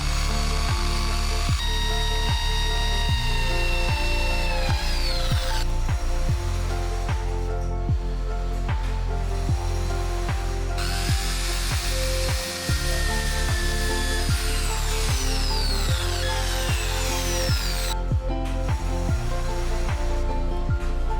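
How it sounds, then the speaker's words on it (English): A power drill whines loudly and continuously, repeatedly biting into MDF with short rhythmic bursts and brief pauses between them. "I want to know how fast I can drill all the mark."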